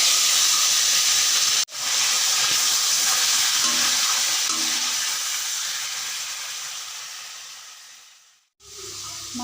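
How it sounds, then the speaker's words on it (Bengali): A fish head fries in a pan with a loud, dense hiss and sizzle close to the microphone, cut off briefly, then slowly fading before picking up again at the end. "মাছের মাথা ভাজিয়ে নিলাম।"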